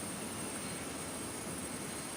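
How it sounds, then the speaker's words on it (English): Learjet engines spool up in a flight simulator before brake release on a short runway, a steady, loud, even jet roar with a high whine running throughout. "So we're going to try and spool up the engines before releasing the brakes."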